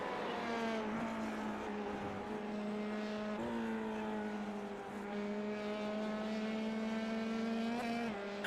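Race cars of the ISRL racing series sweep through a bridge corner, engines holding a steady high-pitched drone with shifting harmonics and brief gear-change dips, loud and continuous with no talk.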